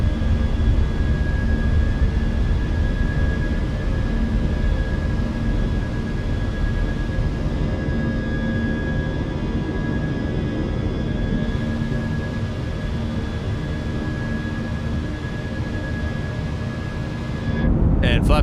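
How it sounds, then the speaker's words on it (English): Fenix A319 airliner climbing out in a flight simulator as the landing gear retracts: a steady, loud cockpit drone of engines and airflow with faint steady tones, unbroken for the whole stretch, with a brief shift right at the end. "Then we got a positive rate gears coming up."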